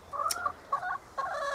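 Chickens in a garden plot enclosure give three short bursts of clucking, close by and fairly quiet, with no talking.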